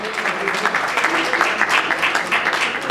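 Applause from an audience at a televised awards ceremony, a steady dense patter of many hands filling the room at close range, with a voice faintly present beneath it.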